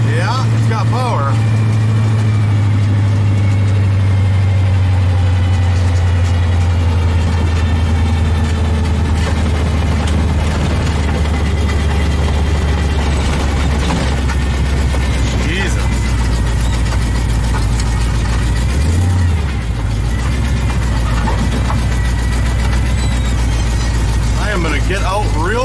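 Pontiac Sunbird engine with twin Eaton M90 superchargers at 8 psi boost and an aftermarket cam, droning steadily and loud from inside the car throughout, with a brief dip and surge midway.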